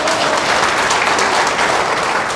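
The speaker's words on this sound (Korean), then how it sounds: "박수 한번 쳐주시면 감사하겠습니다" A large audience claps steadily throughout at a leadership program event, dense and loud applause with no voices over it.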